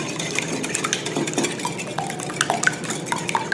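Eggs are whisked in a bowl for a quiche, a quick swishing stir punctuated by small metallic clinks of the whisk against the bowl, close and fairly quiet.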